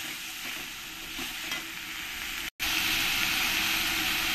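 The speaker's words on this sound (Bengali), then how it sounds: "এই টমেটো পেস্টটা দিয়ে দেবো, 2 চামচ দিয়ে দেবো, দিয়ে ভালো করে একবার নেড়ে দেবো" Tomato paste is stirred in a sizzling frying pan for a Bengali-style rui fish curry, giving a steady hiss and crackle up close, briefly cut off midway before resuming.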